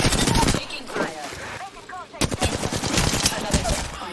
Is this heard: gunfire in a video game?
yes